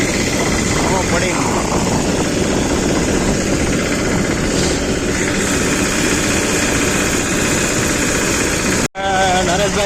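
A tractor engine runs on a national highway with a loud, steady, close rumbling drone that continues without a break, apart from a brief cut near the end.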